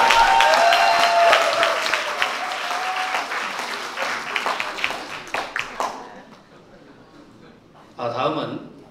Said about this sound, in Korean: 도전 승리에 한 번 더 힘찬 박수 부탁드립니다.